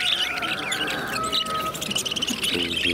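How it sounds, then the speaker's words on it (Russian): Busy, continuous chirping and twittering of budgerigars at a bird market, many calls overlapping in a steady chatter with a brief whistle-like note in the middle. "Волнистые попугайчики."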